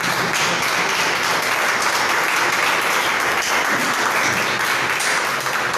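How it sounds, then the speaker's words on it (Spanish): A church congregation applauds steadily and fairly loudly, a dense wash of many clapping hands that holds evenly for several seconds without pause. "Denles aplauso a Jesús de Nazaret."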